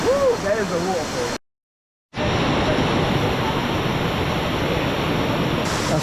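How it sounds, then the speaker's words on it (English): A Koh Samui waterfall pours with a dense, continuous rush of water, briefly cut out then resuming loudly; voices and excited shouting sound over it at the start. "Woo, there's a waterfall."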